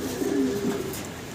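Racer pigeons cooing close by, a soft, low throaty coo repeated briefly over steady background noise.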